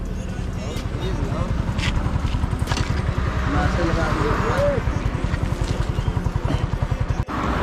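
Yamaha R15 V4 and TVS Apache RTR 160 4V motorcycles idle at the line before a drag race, a loud close rhythmic engine thrum with blips of revving throughout.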